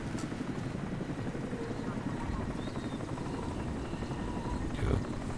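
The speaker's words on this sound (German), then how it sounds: "Ich höre einen Hubschrauber." A steady helicopter rotor drone in the video game Crysis fills the whole stretch, loud and continuous, with a voice speaking over it.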